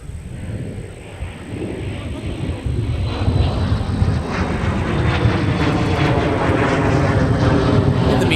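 A plane approaching MSP airport on its base turn produces a loud, broad engine roar that steadily swells as it draws nearer, with no talking heard.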